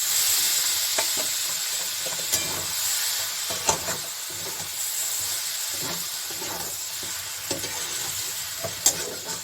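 Chopped onion stalks sizzle and hiss steadily in a hot pan after a little water is splashed in, with occasional stirring clinks over the continuous frying noise.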